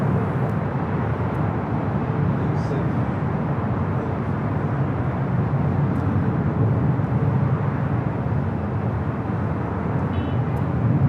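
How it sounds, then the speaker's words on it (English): An Airbus A321 arriving from Detroit at LAX gives a constant, fairly loud broadband jet roar that stays level throughout, with no voices. "Flight coming in from Detroit, A321."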